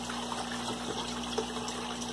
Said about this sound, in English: lots of water pouring out. Water level's dropping.